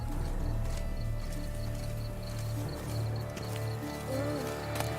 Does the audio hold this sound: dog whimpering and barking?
no